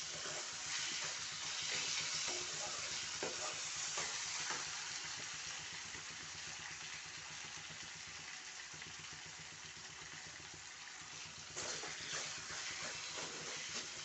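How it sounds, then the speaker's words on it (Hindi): Eggplant mash frying and being stirred in a pan, a soft, steady sizzle with scraping stir sounds throughout, fairly faint and close. "एक से 2 मिनट इसे अच्छे से भून लेते हैं, हम सिक जाने देते हैं।"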